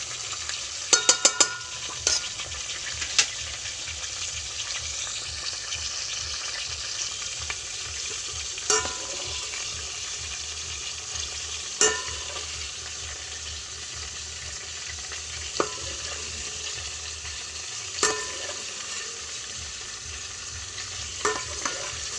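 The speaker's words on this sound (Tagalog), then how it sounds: "Yan po ang aking fried chicken sa rice cooker." Chicken fried inside a rice cooker gives off a steady sizzle with broadband hiss, and a few sharp clicks and taps stand out from time to time over the frying.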